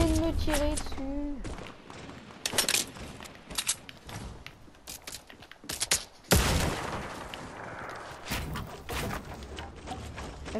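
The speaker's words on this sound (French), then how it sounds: "Oh, mais arrêtez de me tirer dessus" Bursts of gunfire in an online 50 vs 50 battle royale match, with sharp repeated shots and volleys from several directions, loud and close at times, mixed with game sounds and someone speaking French over parts of it.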